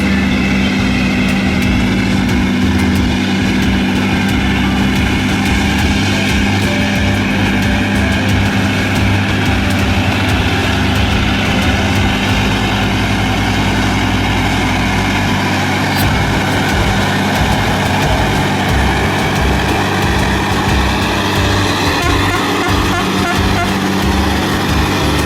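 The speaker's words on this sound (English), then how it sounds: "Here comes a fully loaded SCANIA truck driving down a dusty forest road" A fully loaded Scania logging truck drives down a dusty forest road, its diesel engine droning loud and close for a long stretch with a deep, steady rumble and shifting tones.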